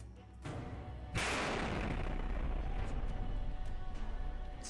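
Near explosion sound effect for a game, a sudden boom with a sharp onset that swells into a long roaring, rumbling wash and stays loud to the end.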